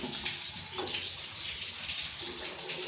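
Water runs steadily from a faucet on house plumbing during a post-turnover inspection, a soft, even hiss of flowing water that carries on alone without pause.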